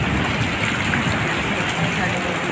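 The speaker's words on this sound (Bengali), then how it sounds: "তার সঙ্গে বৃষ্টি যেমন হচ্ছে, আবার ঝড়টাও প্রচণ্ড শুরু হয়ে গেছে না" Dense, roaring downpour of heavy rain in a violent pre-monsoon storm, pounding surfaces, loud and unbroken throughout with a constant hiss.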